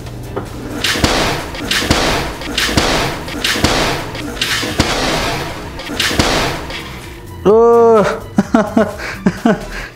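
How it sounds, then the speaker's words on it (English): During a kitchen prank, someone closes a stove door onto a hidden bowl. A sudden loud clatter follows as the bowl flips and rattles to a stop after several seconds of talking and background sound. "they're gonna flip over this bowl and of course it's gonna cause a big mess"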